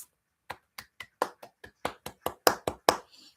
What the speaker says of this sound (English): I want to just give you a quick round of applause